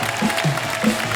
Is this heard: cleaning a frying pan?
no